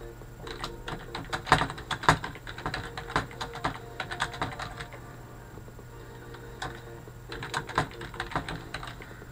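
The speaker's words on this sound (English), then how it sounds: "When the page opens like this, you can just be typing your text." Fingers type steadily on a computer keyboard, producing close, crisp clicks that come in rapid bursts with short pauses between them, with no voices.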